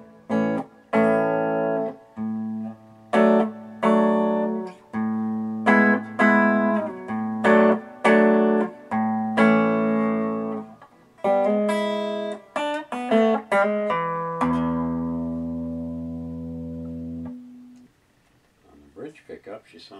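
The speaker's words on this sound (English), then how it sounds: "First clean through my Quilter amp and then with a couple pedals." A Dillion electric guitar on its neck pickup, played clean through a Quilter amp, rings out a run of close, loud chords and notes with clear gaps, ending on a long sustained chord that fades.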